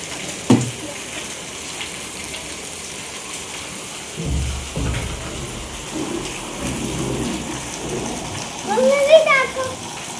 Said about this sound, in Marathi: तर खूप जोराचा पाऊस सुरू झाला आहे